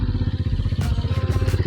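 A motorcycle engine idles close by, a fast pulsing thump with clattery overtones and a couple of brief hissing bursts near the end.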